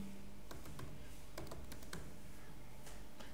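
Someone typing on a computer keyboard, a quiet scatter of light, irregular key clicks close by over a steady background hiss.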